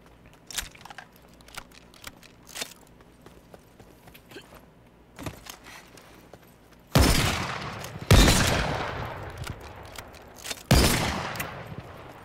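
Gunfire in the video game Super People: light clicking and scattered small reports at first, then three loud, close bursts of rapid shots with ringing decay, no speech.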